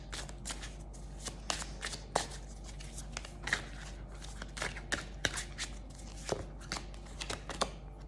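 Tarot cards shuffled by hand in repeated quick riffling bursts, close and fairly quiet, with soft handling rustles between them and no talking.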